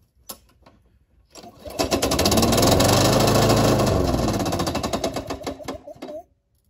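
A red lawn mower engine firing up after its first fill of fuel: a few clicks, then a loud, rough, buzzing run that holds for several seconds, begins to sputter and cuts out.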